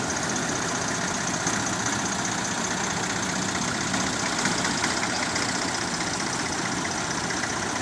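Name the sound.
vintage tractor engine idling at veteran machinery show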